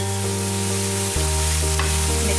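Beef stroganoff sizzles loudly in a pan as a tablespoon of flour is stirred in, a continuous close frying hiss with a faint scrape partway through.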